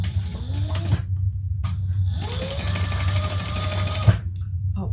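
Sewing machine stitching fabric for an outdoor seat cushion, running in two steady bursts with a brief stop between, close and fairly loud over a low hum.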